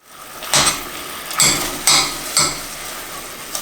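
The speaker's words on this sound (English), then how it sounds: "you're going to whisk it together until fully combined" An almond butter mixture is whisked with a spoon in a pot over medium-low heat, four loud scraping, knocking strokes against the metal spaced about half a second apart, with a soft hiss between them.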